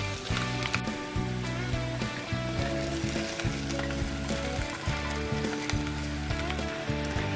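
Paneer, sweet corn, capsicum and tomato sizzle and crackle in a pan as they are stirred, a continuous frying hiss running under steady background music.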